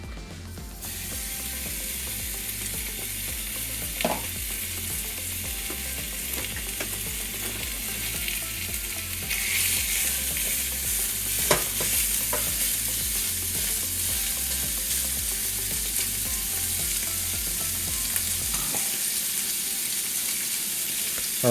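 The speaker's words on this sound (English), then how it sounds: "We're going to start by cooking and rendering the fat in the bacon." Bacon frying in a skillet as its fat renders for a chicken pot pie filling, a soft continuous sizzle with a low mechanical hum beneath and occasional small clicks, no talking.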